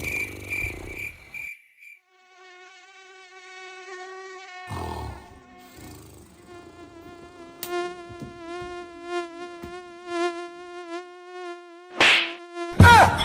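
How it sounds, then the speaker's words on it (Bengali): Several mosquitoes whine close by in a steady, wavering high-pitched drone that runs for most of the stretch, with a few dull thumps and short noisy bursts cutting in near the start, the middle and the end. "এই বালে মশাগুলো আবার অরিজিৎ সিং এর স্যাড সং শোনাতে লাগলো কেন?"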